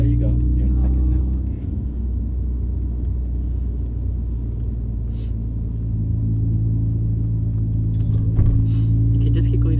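A Mini Cooper S engine rumbles low and steady from inside the moving car, dipping briefly during a shift into second, with people talking throughout.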